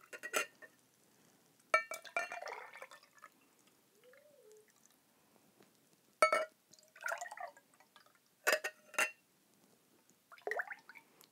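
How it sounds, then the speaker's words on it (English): Water poured quickly back and forth between two cups to mix gravity goo powder from a kit, heard as several separate splashing pours with light clinks and drips in the quiet gaps. "Keep pouring the liquid back and forth."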